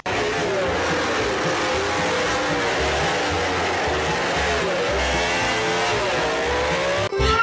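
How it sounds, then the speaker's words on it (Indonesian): A toy racing motorbike engine revs steadily with rising and falling whines, loud and close, and cuts off sharply just before the end. "Ini motor balap."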